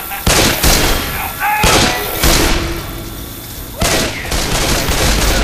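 Gunfire in the zombie shooter Left 4 Dead 2: several loud, sharp bursts and thumping shots at irregular intervals, with players talking over the shooting.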